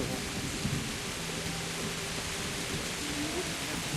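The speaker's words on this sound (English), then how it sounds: "Storm." A thunderstorm in the video game Kingdom Come: Deliverance: steady, heavy rain roars with a low rumble of thunder beneath it. The wash of noise stays fairly faint and constant throughout.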